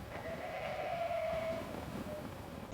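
At a farm, one drawn-out goat bleat rises over quiet, rumbling background noise and then fades, leaving only the low ambience.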